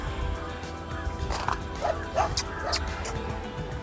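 A few short dog barks and yips, somewhat distant, over a steady background hum.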